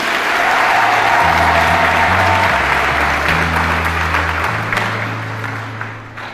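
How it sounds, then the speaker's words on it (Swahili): Easter Mass congregation in Tabora claps loudly and steadily, sustained applause from a large crowd filling the church, tapering off slightly at the end. "Tumpigie makofi Kristo Yesu."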